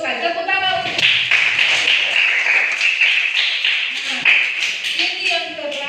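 Children in a classroom clap their hands together in quick, steady bursts for a correct answer, close and loud, with voices talking over the clapping.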